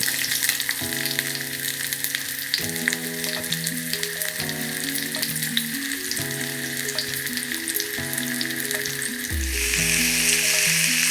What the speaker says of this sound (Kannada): ಈರುಳ್ಳಿ ಒಗ್ಗರಣೆ ಸೊಪ್ಪು ಬೆಳ್ಳುಳ್ಳಿ ಏನಂತ ಫ್ರೈ ಮಾಡ್ಬೋದು